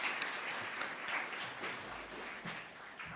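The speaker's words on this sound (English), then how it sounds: "Claps, everyone." Audience applause at an awards ceremony, a moderate, continuous wash of clapping from a crowd, somewhat distant and steady throughout.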